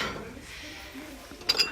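A 15 cm Vigo porcelain bowl, microwave-safe tableware, is picked up and handled, giving a couple of light, bright clinks near the end over a steady background hiss.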